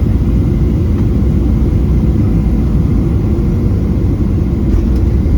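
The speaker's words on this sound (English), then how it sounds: "let's do a Southwest style landing. A very smooth one at that onto Tucson's runway 29 right" A Southwest Airlines airliner lands on Tucson's runway 29 right, heard from inside as a loud, steady, unbroken low engine and airframe rumble with no talk.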